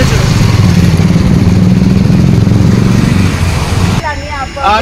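A motorcycle engine runs loud and close with a rough, steady chug as the bike is parked, then cuts off, leaving people talking in Hindi.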